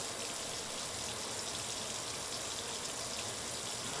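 A little water is poured into a hot skillet holding brown sugar and brown balsamic, giving a steady hissing sizzle that stays loud and even for several seconds.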